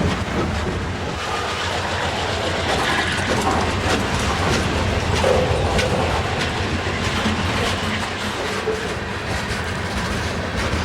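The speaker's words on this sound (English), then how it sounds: "This train is carrying a lot of grain from Canada." A long freight train carrying grain rolls steadily past in Pennsylvania, wheels clattering rhythmically on the rails with a constant loud rumble and occasional faint squeals.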